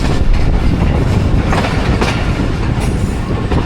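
A GU40 locomotive hauls a freight container train past at close range, a loud, dense, steady rumble and roar of wagons and wheels filling the whole span without a break.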